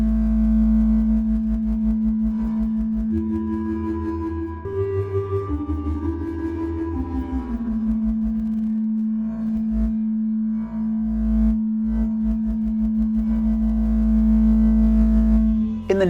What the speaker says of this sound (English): that's going to give us a modulated spatial reverb